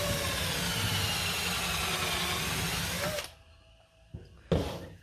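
A power drill pre-drills holes in soft Western red cedar, whirring steadily for about three seconds, then stops; a couple of short knocks and clatters follow nearby.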